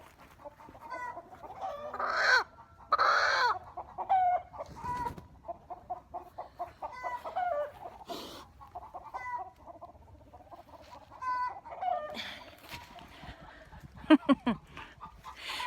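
A Brahma hen clucks in short, uneven bursts close by, with a few louder squawks mixed in against a quiet outdoor background.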